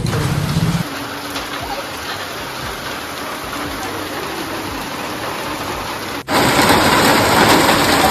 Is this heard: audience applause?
no